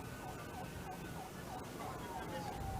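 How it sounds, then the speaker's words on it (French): Wailing sirens of a presidential motorcade escorted by Republican Guard motorcycle riders, rising and falling steadily over a dense crowd and traffic roar, heard continuously at moderate distance. "Le cortège présidentiel avance au rythme des sirènes"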